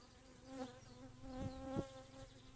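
Honeybees from a small colony, about half a frame strong after winter, buzz steadily during a hive inspection, with the close drone swelling louder in a few brief surges.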